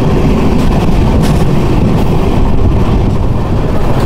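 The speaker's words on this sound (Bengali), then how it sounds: "দেখো দেখো চা বাগান পাশে, তার মধ্যে থেকে ট্রেন যাচ্ছে" A Rajdhani Express runs past tea gardens on the Lumding section in Northeast India, giving a loud, steady rumble of wheels and carriages that holds unbroken throughout, with no voices.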